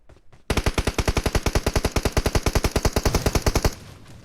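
Sustained automatic gunfire in the mobile battle royale game PUBG Mobile, a rapid, evenly spaced burst of about three seconds, loud and close, with no talk over it.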